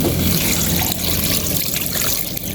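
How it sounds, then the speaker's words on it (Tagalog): Water poured into a cooking pot for sinigang gives a steady close trickling and splashing that runs continuously and fairly loud, with no talking. "lagyan na din po natin ng tubig"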